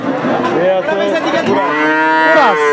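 A crossbreed heifer calf at a cattle market gives a loud, close moo that rises and wavers for about two and a half seconds, heard alone with no talk.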